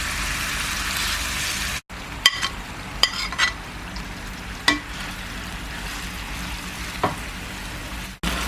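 Chicken Maggi balls frying in hot oil in a pan, a continuous close sizzle broken by a few sharp clicks and taps of stirring, with no speech.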